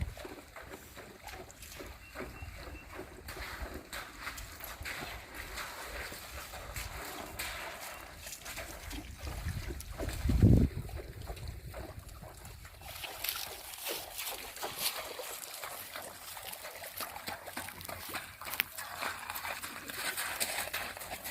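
A horse moves through a creek, steady soft clip-clop of hooves mixed with water sloshing and splashing, with one louder splash near the middle; the outdoor sound stays fairly faint throughout.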